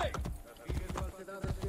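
Horse hooves clip-clopping in Assassin's Creed Brotherhood, a rhythmic trot of hoofbeats close by, with a voice talking over them.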